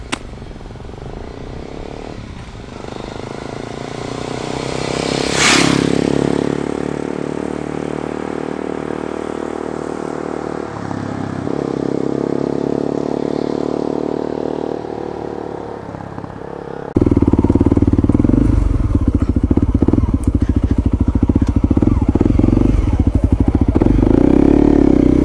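A dual sport motorcycle at a bushcraft camp is heard, its engine running steadily throughout, with a sharp clattering impact about five seconds in as the bike goes down, then a louder, rougher engine drone near the end.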